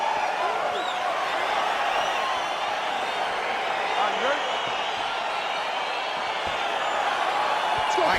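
A large arena crowd in the UFC 4 fighting game roars steadily and excitedly as a bout begins, a dense, constant wash of cheering that holds at the same loud level throughout.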